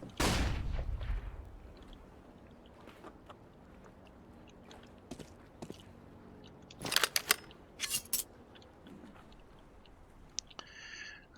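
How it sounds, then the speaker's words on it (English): A flashbang goes off in Counter-Strike on the Anubis map, a sudden loud burst that fades away, followed by sparse clicks and small bursts of game noise and a thin high ringing tone near the end. "Flashbang."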